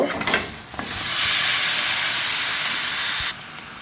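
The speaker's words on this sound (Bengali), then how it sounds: "এই পর্যায়ে আমি এর মধ্যে কেটে ধুয়ে রাখা এই মুরগির মাংসটা পুরোটা দিয়ে দেব" Cut, washed chicken pieces dropped into hot frying masala for a special chicken curry, setting off a sudden loud sustained hiss of sizzling oil that holds steady and then cuts off, close up.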